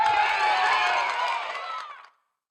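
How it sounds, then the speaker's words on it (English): Applause sound effect played on request by a Google Assistant smart speaker: a dense burst of crowd clapping and cheering lasting about two seconds, then cutting off abruptly into silence. "Hey Google, give me some applause."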